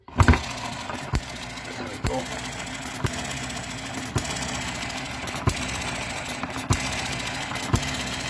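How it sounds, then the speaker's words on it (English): Small mini model engine fired up by spinning its flywheel, then running slowly with a steady, evenly spaced chuffing beat, close and alone after a sharp start. "we'll put the ignition on, spin of the flywheel round at the compression"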